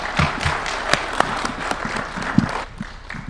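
Audience applause at a contract signing for phase 4 last mile connectivity, with scattered claps and crowd noise across a few seconds that thin out toward the end.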